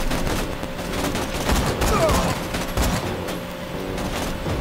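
Gunshots in Borderlands 2 come as a steady, dense barrage of overlapping shots and impacts, loud and close with no real pause.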